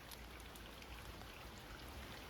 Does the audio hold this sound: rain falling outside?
yes